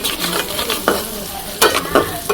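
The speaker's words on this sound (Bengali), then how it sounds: "এখানে আমি তেল দিয়ে দিছি কড়াইতে ভুনার জন্য পেঁয়াজগুলো দিয়ে দিলাম" Onions sizzle in hot oil in a wok while a spoon stirs and scrapes now and then, close and steady.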